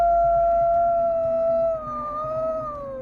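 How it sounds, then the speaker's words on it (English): A black wolf lets out one long, loud howl close by, holding a steady pitch before sliding downward and tapering off at the end. "the wolf howled super loudly"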